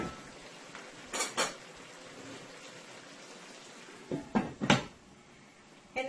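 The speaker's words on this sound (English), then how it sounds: "I'm going to cover my pot and I'm going to let it continue to fry." A metal lid goes onto a cooking pot of frying chicken in a kitchen: sharp clinks and a clattering scrape cut through a steady background fry sizzle, with two short clanks early on and a cluster of knocks later.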